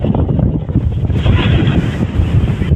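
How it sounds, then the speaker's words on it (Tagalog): Strong wind buffets the microphone on Helmet Peak, a mountain summit, as a loud continuous low roar with gusty swells, close and unbroken, no voices. "Sobrang mahangin ngayon."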